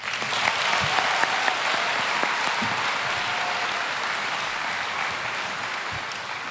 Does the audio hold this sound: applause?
yes